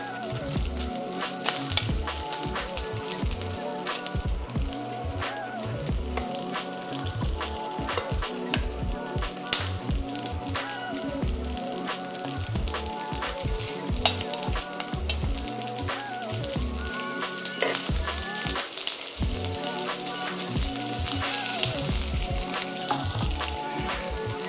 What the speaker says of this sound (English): Okay, the wok is hot. Get the shrimp in there.